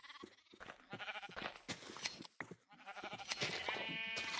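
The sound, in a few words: sheep bleating in the video game Minecraft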